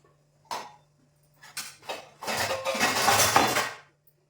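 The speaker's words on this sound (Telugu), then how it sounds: "సౌండ్ పొల్యూషన్ ఉందేమో గిన్నెలు సౌండ్ ఏమనుకోకండి" Steel dishes and pots clatter and scrape as they are washed, a few separate clinks followed by a louder continuous stretch of rattling and scrubbing, close by.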